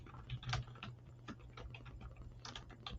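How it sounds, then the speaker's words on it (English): Quick bursts of clicking keystrokes patter on a computer keyboard, irregular and close, over a low steady hum, with no speech. "Let me type this up real quick."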